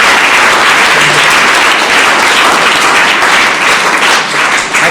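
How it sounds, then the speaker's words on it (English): A large audience at a youth education talk applauds loudly and steadily, a dense wash of clapping filling the whole stretch without pause. "Give her a big clap."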